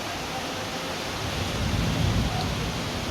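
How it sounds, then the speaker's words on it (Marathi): Heavy rain pours down steadily in a dense, continuous hiss that swells slightly louder toward the end. "आवाज येतोच आहे पावसाचा"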